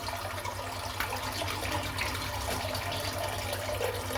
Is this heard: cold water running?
yes